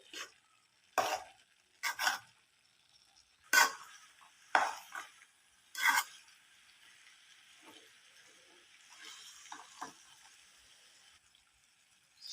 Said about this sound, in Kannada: ಚೆನ್ನಾಗಿ ಮಿಕ್ಸ್ ಮಾಡ್ಕೊಳ್ಳಿ.